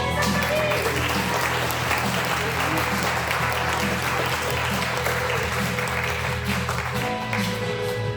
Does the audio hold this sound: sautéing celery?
no